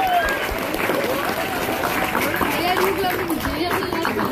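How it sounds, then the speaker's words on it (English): A hall audience claps at the closing of a school event in Doha, dense steady applause with some voices underneath, close and even throughout. "A bigger clap for Birla Public School for providing this."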